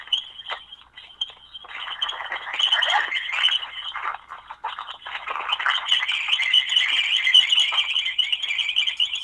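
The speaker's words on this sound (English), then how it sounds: "Sounds like a bunch of birds out there." A chorus of birds chirping outdoors, heard faintly through a phone line as a dense, continuous twittering that swells louder in the second half.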